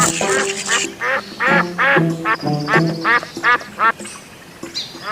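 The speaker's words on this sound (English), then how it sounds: "duck" A duck quacks loudly in a rapid series of about a dozen nasal calls, clustered in quick bursts and then spaced out, close and clear.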